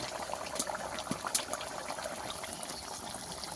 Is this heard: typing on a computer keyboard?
no